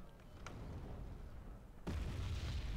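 High-explosive artillery shells burst in the Wargame Red Dragon strategy game: a faint pop early on, then a loud, heavy, rumbling boom that hits suddenly and keeps roaring to the end.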